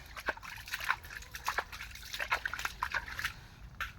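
Water trickles and drips in uneven spurts while a large, freshly caught mud crab is rinsed outdoors, a quiet close splashing with no talk.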